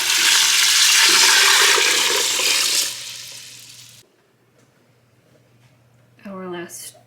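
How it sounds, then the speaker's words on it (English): Water is poured into a pot of elderberries, cinnamon sticks, cloves and peppercorns, a loud rushing splash that lasts about three seconds and then fades. Afterward comes quiet, followed by a brief voice. "we're just going to pour our water right in on top of it"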